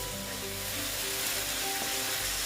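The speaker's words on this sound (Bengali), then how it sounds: "এখন আমি এখানে জল অ্যাড করে দিলাম" Sautéed banana flower and potato curry sizzles as water is added to the pan, a brief, fairly faint continuous hiss and bubbling with no voices.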